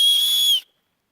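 A small emergency whistle on a hydration backpack gives one sharp, shrill steady blast at close range that stops abruptly, followed by silence.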